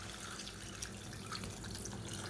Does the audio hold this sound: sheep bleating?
no